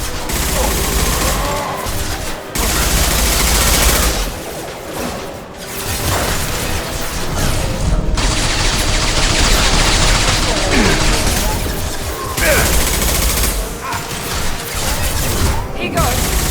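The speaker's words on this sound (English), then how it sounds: "Firing an impact shot!" An impact shot in Mass Effect Legendary Edition sets off loud, rapid bursts of gunfire and heavy booms in quick succession, with brief pauses between volleys and some voice underneath.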